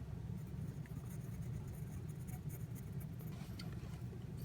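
A pencil shades and blends on paper, a soft continuous scratchy rubbing close up under a steady low background hum.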